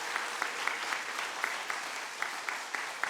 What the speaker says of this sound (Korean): 다시 한번 뜨거운 박수로 격려해 주세요